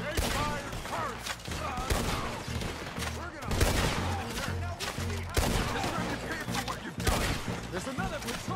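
Gunfire in Red Dead Redemption 2 during a shootout with soldiers, as bursts of rifle and gun shots crack repeatedly and densely across the whole stretch, loud and close, with shouting voices mixed among the volleys.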